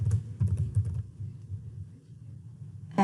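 Keys clatter on a computer keyboard in a quick burst of close, soft taps, then a quieter pause with a faint hum before another click at the end.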